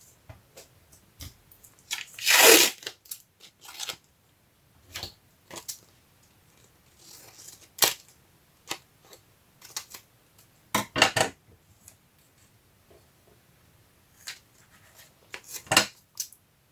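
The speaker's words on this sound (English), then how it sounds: "I'm also going to secure it with a little bit of tape," Tape being cut and pressed onto a paper collector's box, heard as sparse scattered snips, crinkles and handling clicks close by, with one louder rasping tear near the start.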